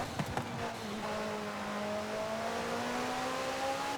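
McLaren race car in the video game Forza Horizon 5 accelerating, its engine tone climbing smoothly and steadily over a few seconds as a loud, continuous whine with no speech.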